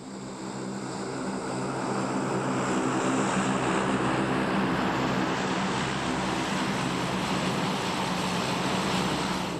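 A military propeller airplane drones overhead, a steady, loud engine roar that swells slightly and holds without letting up.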